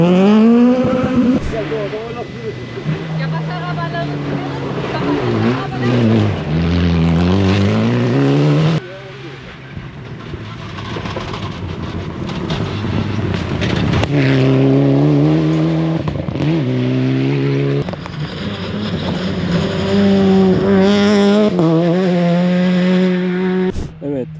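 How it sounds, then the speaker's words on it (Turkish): Rally cars race past on a dirt stage at the 2024 Istanbul Rally, their engines revving and rising in pitch as they approach and sweep by, with spectators talking loudly near the recorder. "araç daha geliyor şimdi bakalım"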